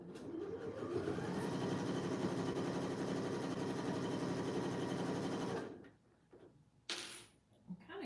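A sewing machine runs a continuous fast stitch along a corset dress seam, loud and steady for several seconds before stopping, followed by quieter handling sounds and a short clunk.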